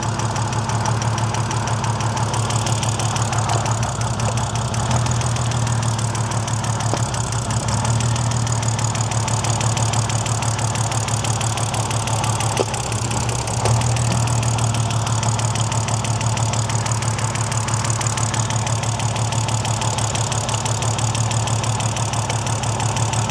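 A BMW engine idling with its fourth cylinder misfiring, a steady close mechanical drone with a faint uneven knock running through it for the whole stretch, no talking.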